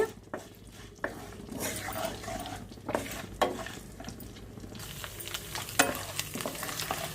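Mustard seeds, cumin, urad and chana dal and curry leaves frying in hot oil for an Indian potato fry tempering, a continuous close sizzle with crackles and stirring scrapes throughout.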